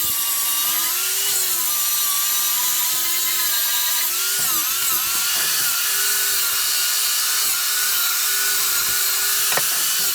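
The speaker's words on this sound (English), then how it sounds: "I've got a flapper disc on. It's just a sanding disc for the grinder." Angle grinder fitted with a flap sanding disc working on metal, giving a loud, continuous high whine with a steady tone and small pitch dips as the disc presses on and eases off, with no talk.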